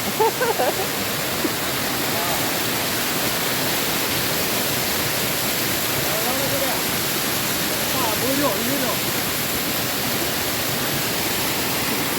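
The Cheru Chakki Chola waterfall in Thrissur roars in a dense, unbroken rush of falling water that stays loud and constant throughout. Faint voices may be buried beneath it.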